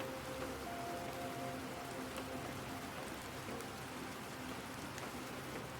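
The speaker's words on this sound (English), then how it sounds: "It's definitely raining outside the wreck, by the sounds of it." Steady rain falls outside a wreck in the video game Planet Crafter, an even, continuous hiss of drops on surfaces with no talk over it.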